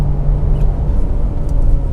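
A Ford Expedition Timberline in sport mode accelerates at full throttle, giving a loud, steady low rumble of engine and road noise heard from inside the cabin.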